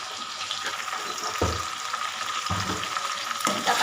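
Tomatoes sautéed in a pan with rock salt nearby, a steady moderate sizzle broken by a few louder stirring scrapes, close and without talk.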